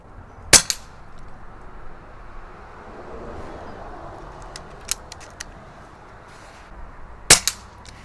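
Umarex Notos air rifle firing JTS Dead Center pellets from a Maple Customs magazine outdoors, two sharp cracks about seven seconds apart with small metallic clicks between, over quiet background.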